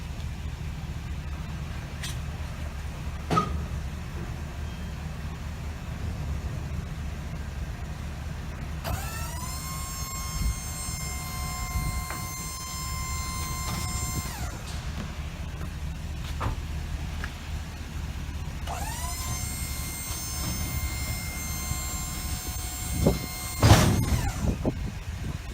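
Isuzu landscape dump truck creeping forward while its bed hydraulics raise, a steady engine drone underneath two long whining motor pulls, each several seconds, with a few clunks near the end.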